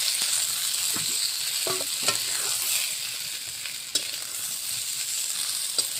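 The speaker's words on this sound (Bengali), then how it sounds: "পটলটা তুলে আলুটা ভেজে নেই" Potatoes frying in hot oil in a pan, just after pointed gourd was fried, give a steady, close sizzle throughout, with a few sharp spatula scrapes and clinks at the pan.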